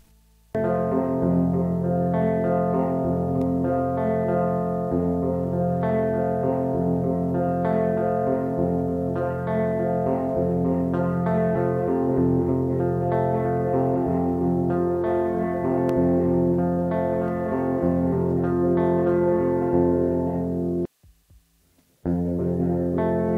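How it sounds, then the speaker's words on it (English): Sustained electric DI guitar chords washed in heavy, spacious reverb from four room microphones and trailing delay echoes, playing continuously before cutting off abruptly near the end. "Just with the microphones, it already adds a really lush reverb."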